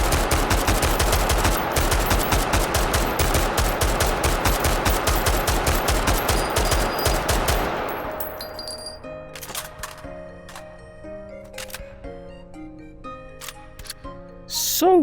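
Rapid, loud gunfire from an AR-180 rifle in the VR shooter H3VR, a fast run of evenly spaced shots for about eight seconds, then scattered single clicks and metallic handling sounds over background music.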